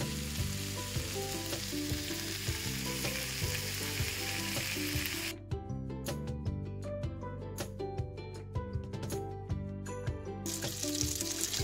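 Diced leberkäse and leek sizzle and fry in hot oil in a pan, with a steady dense crackle throughout and a sharper spattering burst in the middle as the food is stirred.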